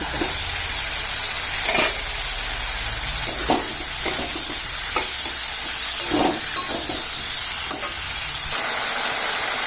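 Spice paste for a fish curry with potatoes sizzling and frying in a pan, a steady hiss with occasional stirring scrapes and soft bubbling pops, close and continuous.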